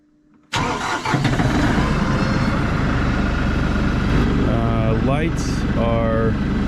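A tractor engine cranks and catches almost immediately, then runs loud and steady, with a few whining and rattling sounds late in the run.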